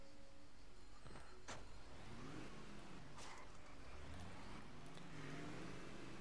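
A car is driven along a road in the open-world game Just Cause 2, its engine a steady drone with shifting revs, over continuous background noise, with a couple of brief sharp sounds and no talking.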